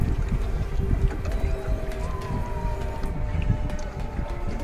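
A tourist boat on Venna Lake gives a loud, steady motor drone with low rumbling throughout, a faint tonal whine riding over the churn, and no voices.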